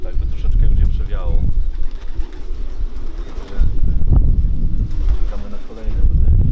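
Racing pigeons at a loft coo and rustle under a voice, with some wind buffeting the microphone. Their calls are fairly close but stay partly masked by the talk.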